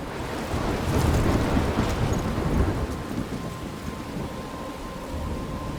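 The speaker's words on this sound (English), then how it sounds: "I'm trapped in a storm?" Steady heavy rain with a low rumble of thunder swelling and fading in a Life Is Strange storm scene, a dense wash of noise with no voices.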